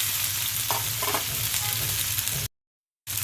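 Macaroni noodles fry with tomato in a pan, giving a steady close sizzle with light stirring scrapes, cut off by a short silent gap before the sizzle resumes.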